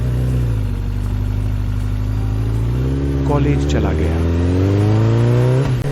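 A motorbike engine hums in a steady low drone and then revs up as the bike pulls away, with someone speaking over the engine noise.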